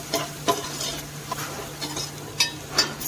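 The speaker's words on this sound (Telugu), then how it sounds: "వీటన్నింటిని ఒకసారి బాగా ఫ్రై చేసుకోవాలి" Chili powder and ground pepper frying together in a pan for chicken fried rice, with scattered scraping and stirring clicks over a soft, steady crackle.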